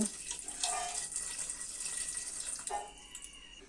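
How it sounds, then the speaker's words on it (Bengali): Water is poured from a tap or jug onto mutton and potatoes in a cooking pot, a steady splashing pour that runs for a few seconds with a brief break and a second splash near the end. "মাংসটা সিদ্ধ হওয়ার জন্য পরিমাণ মতো জল দিয়ে দিব।"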